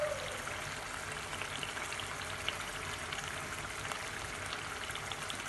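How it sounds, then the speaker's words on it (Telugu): Chicken roast in a clay pot keeps bubbling and sizzling after the heat is turned off, a steady close crackle and fizz of hot oil holding evenly throughout with no talking. "చూసారా నేను ఆపేసి దించినా కూడా ఉడుకుతానే ఉంది"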